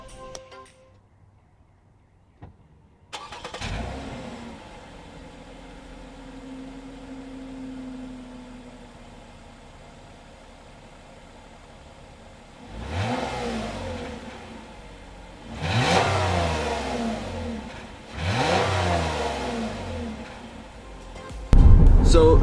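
The 3.5-liter V6 of a 2018 Lexus ES 350 starts after a quiet moment, settles into a smooth idle, then rises in three short revs late on, with some talk nearby.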